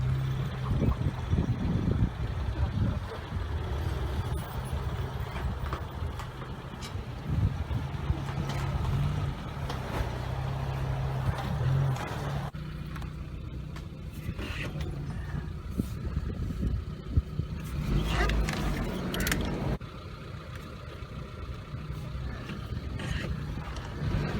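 Suzuki Sidekick or Geo Tracker off-roading through a tight canyon wash, the engine droning low and steady with crunching, scraping tire noise and gusts of wind across the microphone throughout, no talking.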